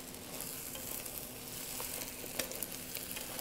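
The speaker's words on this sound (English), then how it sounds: "And I can hear the sizzle." Noodles soft-frying in a pan give a steady, close sizzle with faint crackles and light stirring scrapes, holding an even level throughout with no talking.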